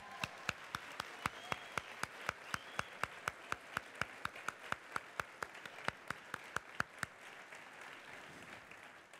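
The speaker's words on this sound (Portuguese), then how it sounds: "Pode aplaudir." An audience in a church claps in a steady, evenly spaced rhythm, crisp sharp claps repeating for several seconds before stopping and leaving quieter room sound.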